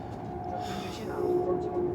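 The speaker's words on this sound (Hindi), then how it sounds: "एक ये जा रही है वाइट कलर में, टोटली वाइट बुलेट ट्रेन।" A white Chinese CRH high-speed bullet train rushes past on a line near Beijing–Shanghai, giving a steady rolling roar with a tonal whine, heard from inside another moving train.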